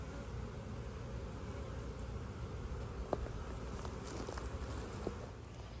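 Honey bees swarm-buzzing around an open backyard beehive, a steady dense hum close by with a few faint taps and soft knocks scattered through.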